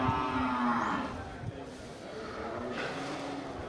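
Bali cattle at a cattle show give a long, low moo near the start, followed by fainter lowing under background crowd chatter and talk.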